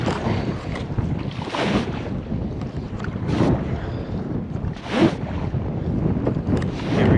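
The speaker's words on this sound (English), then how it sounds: "I'm at a headwind all of a sudden for some reason." Steady headwind on the Missouri River buffets the microphone while a solo paddler works a small boat, a continuous rushing roar with gusty swells and faint water noise, no talking.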